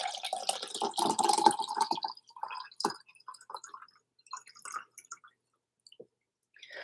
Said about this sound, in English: just pouring another coffee here